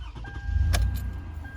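A 2011 Toyota Highlander's engine turns over and catches in a brief starter burst, settling into a steady low idle rumble close by, with faint clicks underneath.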